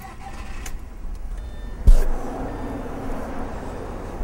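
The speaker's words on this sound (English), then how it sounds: "Now they've stopped flashing, so the car will start." Audi A4 with a 2.0 TFSI engine starting after an ECU flash: a short starter crank and catch, then a steady idle hum, moderately loud and close.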